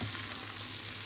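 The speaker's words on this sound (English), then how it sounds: "Now, I'll continue stirring like this just until the green beans kind of shrink a little bit." Green beans sizzle in olive oil in a cast iron pot while being stirred for Lebanese loubieh b'zait, a steady close frying hiss with no pauses.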